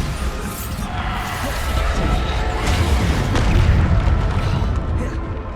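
Bombarda blasting-spell explosions in the Hogwarts Legacy video game, a steady dense rumble of booms and crashing blasts that swells slightly toward the middle and never drops away.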